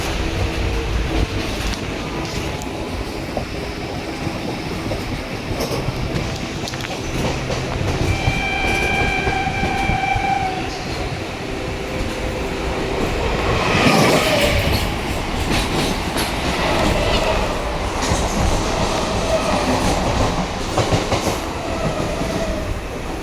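Continuous rumble and clatter of a passenger train rolling along rails, recorded on board, with rhythmic wheel clacks and a faint metallic squeal partway through.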